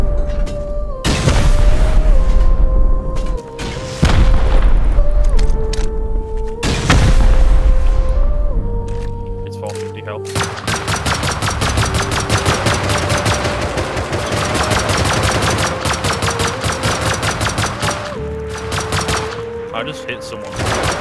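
Gunfire and a big explosion in a Rust base raid: a few heavy booming blasts with ringing tails, then a long, dense stretch of rapid, loud automatic fire continuing to the end.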